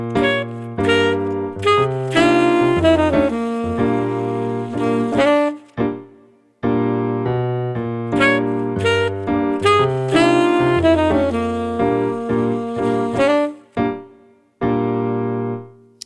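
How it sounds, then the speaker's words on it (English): A recorded jazz performance plays a blues lick over Rhythm Changes, with melodic lines over chords, loud and continuous apart from two brief pauses. "here is the lick over the first 3 measures of the last"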